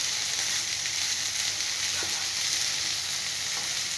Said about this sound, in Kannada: ಎಣ್ಣೆ ಹಾಕ್ಬಿಟ್ಟು ಈ ಥರ ಒಗ್ಗರಣೆಗೆ ಹಾಕಿದ್ದೀನಿ ನೋಡಿ